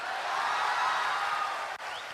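A class audience breaks into steady applause during a Hindi lecture, a dense, even patter of many hands that holds at a constant level with one short dip near the end.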